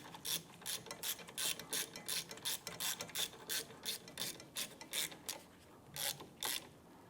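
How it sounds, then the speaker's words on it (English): Ratchet wrench snugging brake caliper bolts on a 2005-2007 Ford Five Hundred during a rear brake job, a close run of quick metallic clicks in bursts, steady and fairly loud with no talk. "Let's go ahead and snug down the caliper bolts."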